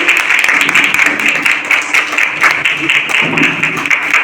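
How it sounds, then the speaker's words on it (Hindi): An audience at a women's college seminar in Basti applauds the principal, loud and continuous, with a voice talking over the clapping. "जोरदार तालियों से स्वागत अभिनंदन करें"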